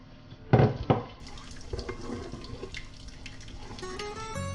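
Water splashes and pours into a cooking pan of mussels, flour and wine, with a loud burst near the start followed by a steady trickle and faint kitchen clatter.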